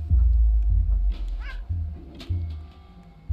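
A cat in a video game lets out a drawn-out, wavering meow over a low, rumbling game soundtrack, moderately loud and without talk.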